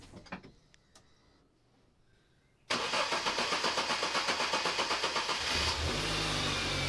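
A Mini One R50 engine with a newly replaced timing chain cranks with rapid rhythmic pulses after a quiet stretch with a few clicks, then catches and runs loudly near the listener.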